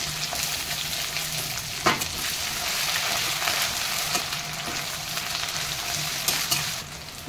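Onion, garlic and green chilli frying in oil for a Bengali katla fish curry, giving a steady close sizzle broken by a few sharp clinks of stirring.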